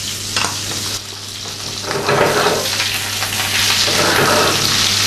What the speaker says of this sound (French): on les met au beurre